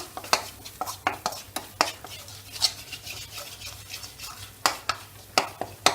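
A spoon stirs a refined flour mixture in a pan, rhythmic scraping strokes with light clinks against the metal, close and repeated with a faint simmer beneath.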